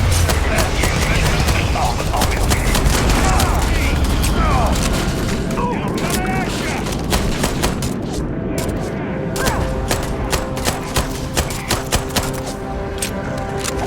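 Gunfire crackles in a firefight in the video game Starfield, rapid bursts of shots and sharp clicks running nearly the whole time under loud combat noise, with voices shouting over it.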